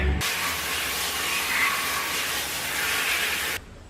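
A steady, loud hiss of running water from a tap rinses a sanded 3D-printed T-Rex skull, starting abruptly and cutting off after a few seconds, with no talk.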